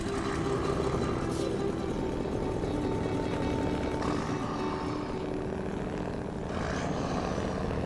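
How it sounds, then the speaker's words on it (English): A loud, steady truck engine drone with a chopping, rotor-like thrum runs throughout, heavy and continuous, in the game SnowRunner. "Truck sounds like a mid-sized helicopter"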